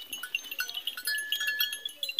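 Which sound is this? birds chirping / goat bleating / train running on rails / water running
goat bleating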